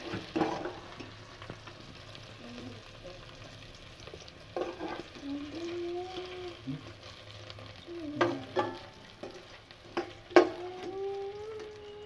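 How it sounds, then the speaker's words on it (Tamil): Okra (ladies finger) sautéing in oil for a curd gravy, with a soft steady sizzle broken by louder scraping stirs at intervals; no one speaks. "வெண்டைக்காய் இப்போ நல்லா வதங்கிட்டு பாருங்க"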